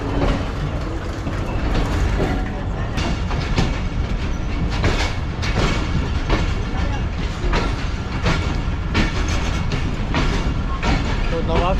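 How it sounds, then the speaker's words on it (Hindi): A train pulling out of Nawabshah railway station on a foggy winter journey, heard from inside with continuous rumbling and rhythmic clattering of wheels, loud and close throughout. "अब हमारी ट्रेन नवाबशाह रेलवे स्टेशन को छोड़ रही है।"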